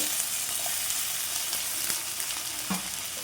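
Green chillies and tomatoes frying in a pan for a cabbage chutney, a dense continuous sizzle with faint stirring scrapes, heard alone.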